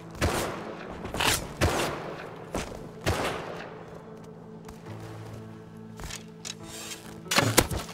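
Gunfire in the Rust survival video game, including revolver shots: irregular loud cracks spaced a second or so apart, ending in a quick dense burst of shots.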